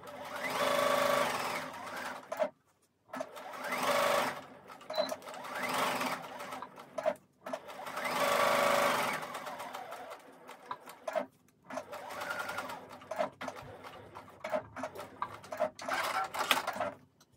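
A sewing machine stitching a small fabric bookmark, close and clear, running in bursts of rapid mechanical stitching separated by short pauses, with the last runs shorter and choppier.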